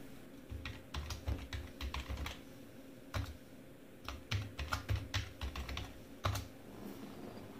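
A new password is typed on a computer keyboard while setting up a USB persistence boot on an MX Linux 21 live system, giving quiet, close clusters of key taps in short bursts separated by pauses.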